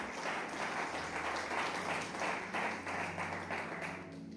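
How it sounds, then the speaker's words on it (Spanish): A church congregation claps hands together in a steady, continuous rhythm, a dense wash of palms filling the room with no voices standing out. "Vamos a poner palmas, Señor, en otro corazón."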